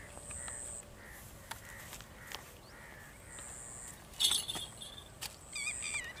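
Myna birds call in the open before a hunt with a shikra hawk, giving scattered, faint harsh notes and whistles with short gaps, a few louder chirps toward the end.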